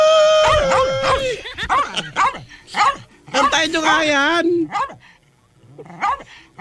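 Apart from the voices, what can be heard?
dog barking angrily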